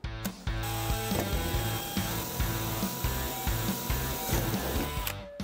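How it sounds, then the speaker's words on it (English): A drill bores a pilot hole through a Mustang hood, a loud, close whine with a stuttering, pulsing rhythm as the bit bites and grinds for about five seconds before spinning down. "Now we're going to drill a hole."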